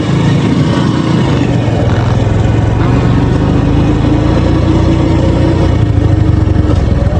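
A motorbike engine runs steadily while riding along the Karnaphuli River bank, with a loud continuous droning hum and a low rumble that never drops away, and no voices over it.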